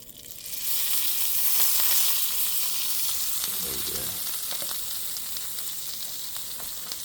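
Sausages and pancakes sizzling steadily in a 19th-century style cast iron skillet, a continuous close frying hiss with occasional scraping as a large sausage is turned.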